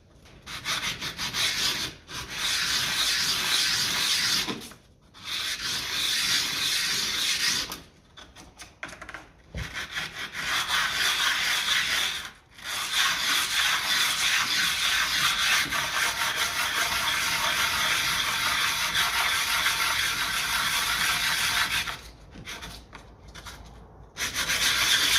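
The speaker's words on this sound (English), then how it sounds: "we'll just give it a quick rub here on our sanding board" A fork part from a 1968 Triumph T100C motorcycle is rubbed on a sanding board, a run of close, rasping back-and-forth strokes in long bursts broken by short pauses.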